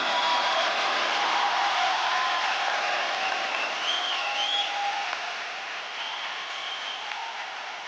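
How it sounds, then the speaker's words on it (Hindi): A studio audience applauds steadily at a comedy talk show as a guest is welcomed, a dense, even wash of clapping with a few scattered whistles and whoops that eases slightly near the end. "जोरदार तालियां स्वागत कीजिए।"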